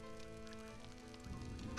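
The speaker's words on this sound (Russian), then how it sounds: "Дождь начался" Rain beginning to fall in the survival game Stranded: Alien Dawn, a steady soft patter and hiss that grows denser and louder over the short stretch, layered under continuous in-game ambience and music.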